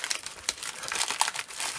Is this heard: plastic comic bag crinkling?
yes